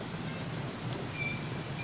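Heavy monsoon rain pours down steadily over a flooded city street near a flyover, a dense, continuous hiss with no break and no voices.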